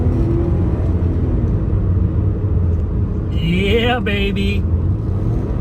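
A 2004 Lexus RX 330 engine revs hard to 6,000 RPM, a loud, close, steady roar with a rising whine on top, while a man briefly exclaims over it.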